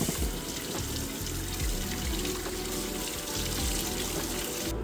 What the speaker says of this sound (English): give these guys a quick rinse in the sink